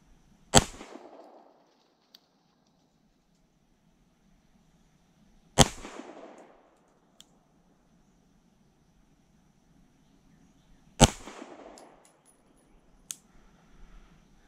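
Three sharp, loud gunshots from a Springfield Armory Prodigy pistol, fired at 10 yards about five seconds apart, each a hard crack with a short decaying tail, with faint small clinks between.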